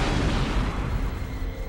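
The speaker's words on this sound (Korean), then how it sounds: "충격파와 함께 어마어마한 폭발음이 들리죠" Explosion sound effect of an asteroid impact shockwave: a dense, continuous roaring rumble, loud and broad, sustained throughout without a clear single blast or any voices.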